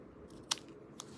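Paper being trimmed for a handmade trellis card, heard as a couple of brief, crisp cuts close by, a sharp snip followed by a lighter one in an otherwise quiet room.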